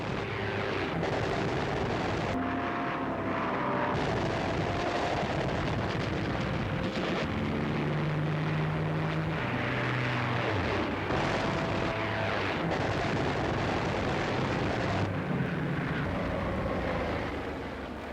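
WWII fighter aircraft in combat, including the Focke-Wulf 190 Luftwaffe fighter, a dense, loud continuous roar of engines and battle noise with rising and falling engine tones throughout, no voices.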